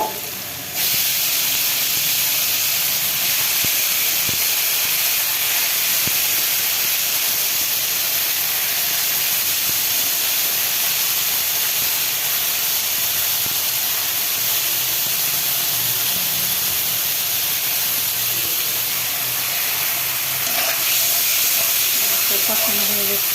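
Spiced food being sautéed in a pan makes a dense, loud, continuous hiss of steam and sizzle with a few faint knocks, steady throughout without talk.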